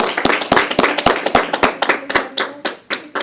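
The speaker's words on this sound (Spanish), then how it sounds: "Dale un aplauso a Cristo." A church congregation claps in a Spanish-language worship service, a steady run of sharp, fairly loud handclaps with a few voices faintly underneath.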